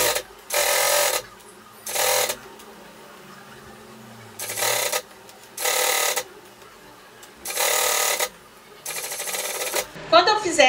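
A sewing machine stitches a child's pleated jacket in five or six short, loud whirring bursts separated by quiet pauses, close by, with handling clatter at the end.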